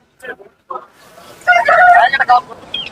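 Roosters crow and chickens cluck loudly at a busy, crowded poultry market, several birds calling over one another with a brief voice at the start.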